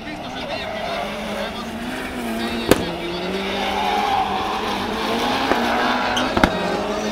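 Rallycross cars race around a track at Nyirád in 2015, engines revving and tires squealing at mid distance, with a couple of sharp bangs and a commentator talking over the action.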